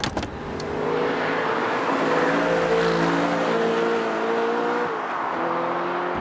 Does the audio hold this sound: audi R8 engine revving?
yes